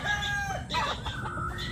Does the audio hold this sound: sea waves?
no